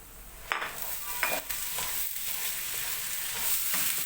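Vermicelli pasta roasting in butter in a pan, a constant soft sizzle broken by a few spoon scrapes as it is stirred, close and with no talk.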